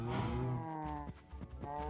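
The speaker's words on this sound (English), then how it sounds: "Cows are trying to escape, dude." Cows in the Minecraft video game moo in a long, loud, close call, followed by a couple of shorter low moos, with no talk over them.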